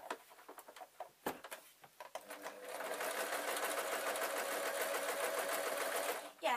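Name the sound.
sewing machine sewing a stuffed toy raven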